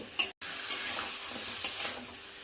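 Crab curry ingredients sauté together in a hot pan, a continuous sizzle broken by a few spatula scrapes and clicks, with one brief dropout near the start.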